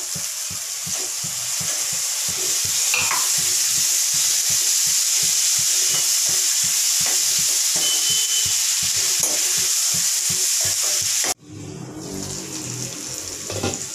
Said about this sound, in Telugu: ఇది వచ్చేసి అల్లం వెల్లుల్లి పేస్ట్ అండి, టమాటోస్ అండి వేసేస్తున్నాను.